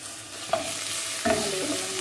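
Chicken pieces added to hot oil with golden brown onion and garlic, a steady close sizzle broken by two louder bursts of frying as food hits the pan, with no voices.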